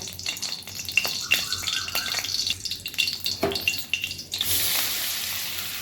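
Paneer cubes coated with turmeric, salt and Kashmiri chilli powder frying in hot ghee in a kadai, a steady close sizzle with scraping stirs, then a louder rush of hissing near the end.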